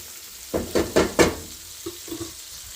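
A bay leaf frying in hot oil in a pot for red beans and rice: four quick rising bursts of sizzle close by, then a pause and a few softer crackles as the oil settles.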